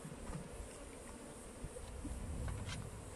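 A dense, steady buzz of many honeybees swarming close by around an open hive during an inspection, a constant hum with occasional louder passes of individual bees.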